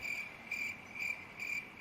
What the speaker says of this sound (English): Is that crickets?